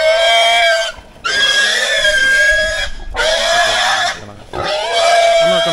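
Pigs at a village pig bar in Fiji squeal and grunt loudly at close range in long, shrill bursts separated by brief pauses, with a little background noise between calls.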